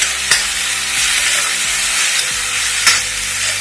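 A loud, continuous sizzle of tomatoes frying in oil in a pan, with a couple of sharp clicks of stirring.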